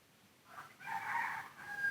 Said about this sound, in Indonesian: udah ada suara ayamnya